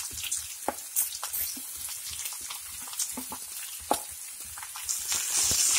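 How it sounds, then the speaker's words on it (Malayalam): Sliced onions hitting hot oil with popped mustard seeds for an egg roast, giving a steady crackling sizzle with sharp pops and occasional stirring scrapes, close and moderately loud with no talking. "കടുക് പൊട്ടി സവാള ഇട്ട് കൊടുക്കാം"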